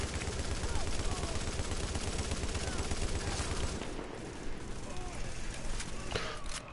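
Rapid bursts of gunfire in The Division video game, a dense loud rattle of shots for the first few seconds, then thinning into scattered sharper reports and background noise.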